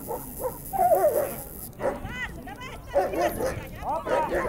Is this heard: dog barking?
yes